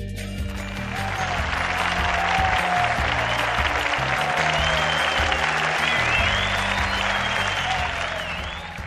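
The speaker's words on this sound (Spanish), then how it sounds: "Aplausos, por favor, para Rosana." Sustained applause from a studio audience at an educational broadcast, a steady dense clapping that runs for about nine seconds at even loudness with a background music bed underneath.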